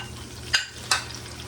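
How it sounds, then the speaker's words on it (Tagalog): Onion and tomato sautéing in a pan: a low background sizzle broken by two short, sharp stirring scrapes close by, with no voices. "Ito na po yung sibuyas kamatis. Igigisa ko na siya mga kababayan."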